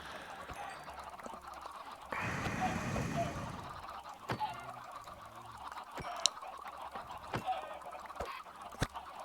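Minecraft chickens give a short burst of clucking noises, with scattered clicks and game sounds before and after, all fairly faint.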